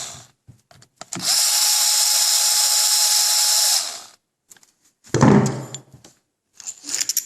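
A power tool, a drill-type driver, removes carburetor screws from a Walkerjet 200 engine during maintenance, whirring loudly and steadily for about three seconds up close, bracketed by clicks, clunks and handling knocks of parts and tools.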